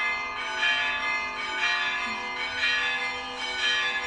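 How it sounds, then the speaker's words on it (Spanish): Church bells ring in a steady, resonant wash with rhythmic swells roughly once a second, moderately distant and sustained throughout, with no talking. "dejamos pasar las campanas"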